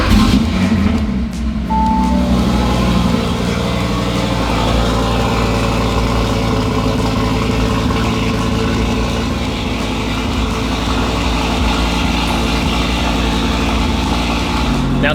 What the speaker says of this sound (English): Let's do a cold start on the RS3.